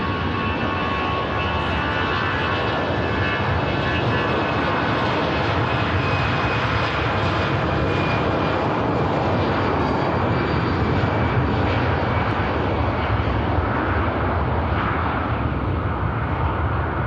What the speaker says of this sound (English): Finnair departing from the intersection.